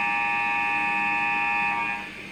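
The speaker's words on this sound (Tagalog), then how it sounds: "Ito po yung buzzer niya." A steady, shrill electronic scoreboard buzzer drones continuously at close range, then cuts off abruptly near the end.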